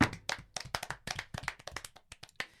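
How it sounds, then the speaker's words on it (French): Clapping from a small group at a school gathering, a quick run of sharp, close handclaps that thins out and grows more scattered. "On applaudit."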